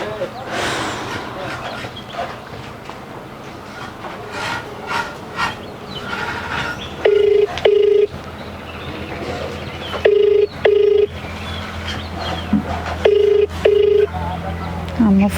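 A telephone rings in a home in a Kodava short film, giving three pairs of loud, clipped electronic trills at steady intervals. Voices and room noise carry on underneath before the call is picked up.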